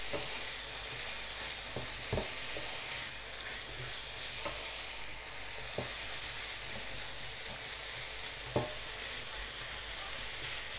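Rice and chicken frying in a pan for a chicken shawarma dish, giving a steady, close sizzle with occasional sharp clicks and scrapes from stirring, and no speech.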